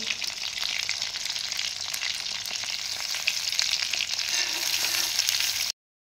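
Steady, crackling sizzle of bhetki fish fillets frying in hot oil, continuous and close, with no voices, ending abruptly.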